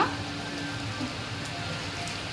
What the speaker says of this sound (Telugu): బాగా వాన్ చూడండి ఎంత పడుతుందో